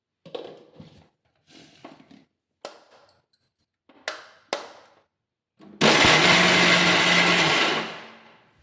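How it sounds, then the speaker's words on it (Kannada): Grated coconut for paddu chutney sits in a mixer-grinder jar; a few light clinks and taps come first, then the motor whirs on loud and steady for a couple of seconds and winds down. "ಈಗ ಇದನ್ನು ಕೊಬ್ಬರಿ ರುಬ್ಕೊಳ್ಳೋಣ ಫಸ್ಟು"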